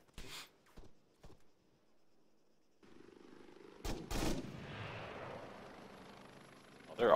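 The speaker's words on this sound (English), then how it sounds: "I'm getting shot at." Gunfire from the tactical shooter Squad: a few sharp isolated shots early on, a pause, then a heavier close burst followed by a lingering rumble and roar.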